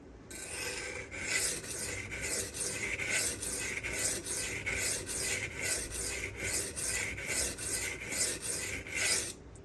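Sharpening the bevel of a Custom Knife Factory Rotten Design Evo 4.0 Damasteel knife gives steady, rhythmic rasping strokes, close and even, repeating about twice a second with no talking.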